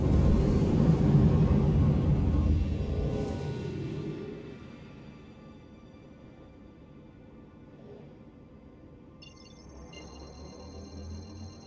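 Anvil Arrow spacecraft lifting off in Star Citizen, a loud low engine rumble for the first few seconds that thins into a quieter steady drone, with a faint high electronic tone entering near the end.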